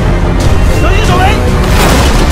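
A grenade explosion in the trailer for the Chinese crime film Saving Mr Wu, a loud, deep rumbling boom that fills the whole short moment.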